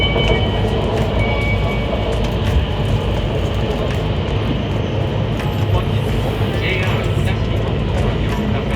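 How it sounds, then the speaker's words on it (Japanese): Inside a Joetsu Shinkansen bullet train travelling from Tokyo to Niigata, a loud, steady low rumble and rush of the moving carriage continues throughout with faint higher whines. "早朝東京駅から上越新幹線に乗り新潟まで移動します。"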